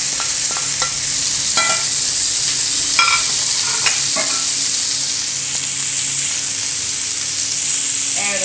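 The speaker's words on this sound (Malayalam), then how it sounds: "മീൻ ചേർത്ത് ഇതിലേക്ക് രണ്ടാം പാൽ ഒഴിച്ചു കൊടുക്കണം." Fish cooking for fish moli in a pan as second coconut milk is poured in: steady close sizzling and bubbling with a bright hiss, punctuated by a few light clinks and scrapes of stirring.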